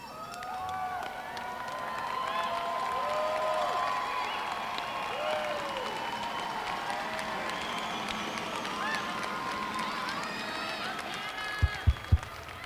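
A graduation crowd at the 2019 Eastmont High School ceremony cheers and applauds steadily, a dense wash of clapping, whistles and shouting voices that holds throughout, with a few sharp knocks near the end.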